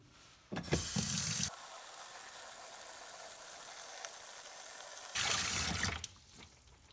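Tap water running into a sink while the inner gear of a Shovelhead engine's gear drive shaft is cleaned, with loud full-stream bursts at the start and end and a softer steady flow between.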